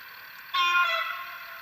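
After a brief quiet pause, a Roco model locomotive sounds a long, steady horn blast that holds evenly and fades slightly, close by and with no voices.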